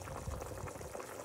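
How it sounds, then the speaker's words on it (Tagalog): Broth bubbling at a steady boil with sotanghon noodles cooking in it for bam-i, a dense, continuous simmering hiss and gurgle heard up close with no talk. "Niluluto ko talaga siya ng kusa sa sabaw."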